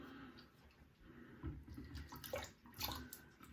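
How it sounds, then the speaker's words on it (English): A synthetic shaving brush is dipped and swished in a small bowl of water sitting in a sink, making soft, faint splashes and trickles with a few slightly louder sloshes. "no need to soak a synthetic brush, so just get it wet"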